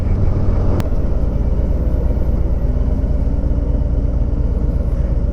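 Harley-Davidson Road Glide 3 trike being ridden, its engine a steady, loud low rumble that holds throughout with a brief sharp click near the start.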